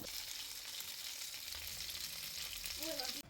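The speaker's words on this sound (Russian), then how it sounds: "И таким же образом обжариваем вторую сковороду котлет" Continuous crackling sizzle of zucchini and meat cutlets frying in oil in a pan, with a brief clink near the end.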